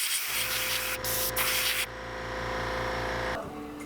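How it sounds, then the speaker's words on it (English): An airbrush sprays paint onto a neon tetra fish lure, a steady close hiss over a low compressor hum, cutting out briefly and then stopping as the air drops away. "so you just back it up and keep spraying."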